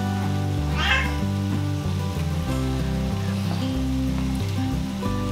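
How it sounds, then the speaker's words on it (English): A pet cat meows once in a home kitchen while a butternut squash and spinach pasta bake is prepared, a short, fairly faint cry heard over steady sustained background music. "She's a cat."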